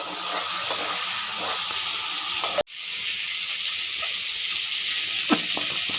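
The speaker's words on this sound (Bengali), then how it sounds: "চিংড়ি তো বেশি ভাজবো না, অল্প করে ভাজবো, হালকা ভাজবো।" Shrimp sizzle in hot oil in a pan, a steady bright frying hiss that runs throughout with a brief break midway. Someone is lightly frying a few prawns before adding them to a rohu fish curry.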